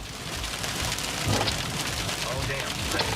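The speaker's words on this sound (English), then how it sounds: "A few hailstones start hitting the car." Hailstones patter and rattle on a car moving at speed during a tornado chase, a steady drumming wash of impacts with a few sharper hits over road and wind noise, sounding close and fairly loud.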